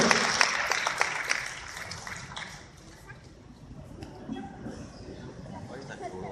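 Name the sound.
audience applause for Bu Ratna Wati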